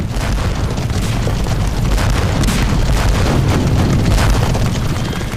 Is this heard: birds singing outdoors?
no